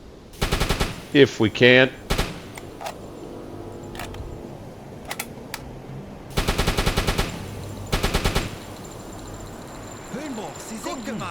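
Machine gun fire in the submarine game UBOAT, repeated rapid bursts of several seconds each, loud and close, interspersed with single shots and someone talking briefly over them.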